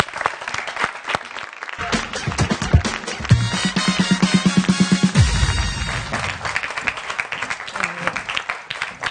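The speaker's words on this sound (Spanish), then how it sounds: "Un aplauso, por favor." Scattered claps open a round of audience applause before a stand-up comedy set, soon joined by loud rhythmic music with a pulsing beat, while clapping carries on beneath it.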